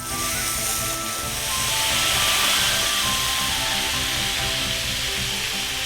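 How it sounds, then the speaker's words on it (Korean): Smoking-hot cooking oil, heated to around 220–240 degrees until blue smoke rises, is poured over Sichuan boiled pork (shui zhu rou pian), giving a loud, steady sizzle and crackle that runs unbroken for several seconds with no talking. "끓는 식용유를 뿌려 보겠습니다."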